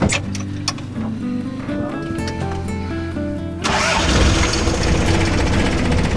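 A vehicle engine cranks with a whirring starter for several seconds, then catches and settles into a louder, rough steady idle, close by.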